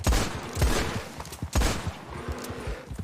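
Booming gunshots ring out in a Red Dead western roleplay game, with a few heavy reports spaced about a second apart, each followed by a rolling echo tail.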